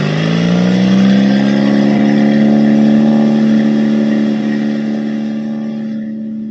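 Steady engine drone of a small airplane running in the Fly To Learn flight simulator game, a loud continuous tone that rises slightly in pitch and holds, easing off a little at the end, with no talking.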